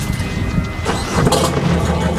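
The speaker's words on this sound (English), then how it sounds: "We just started the engine and it started for like a few seconds and then it turned itself off." A brand-new diesel engine on a sailboat, fed fresh diesel, cranks and catches for the first time, a steady mid-pitched mechanical rumble that swells slightly partway through and runs on without pause.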